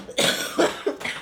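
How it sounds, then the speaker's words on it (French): A woman coughs close to the microphone, three or four rough, quick coughs in a row, loud and dry, with no talking. "J'ai vraiment une toux."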